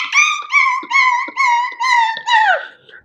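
A man imitates a dog's bark-whine, six drawn-out tonal yelps in a steady rhythm with short gaps, close and loud, the last one bending downward into a fading whimper.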